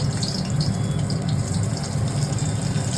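Sweet corn and mixed vegetables fry slowly in hot oil, giving a steady, even hiss of bubbling sizzle that holds without a break from start to finish.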